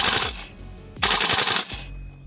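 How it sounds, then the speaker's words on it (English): An HK416 A5 gas blowback airsoft rifle fires on full auto in two sharp, rapid bursts of cracking shots with hissing gas release, loud and close. "So if I just hold that down on full auto, you'll see the kind of firing rate it has."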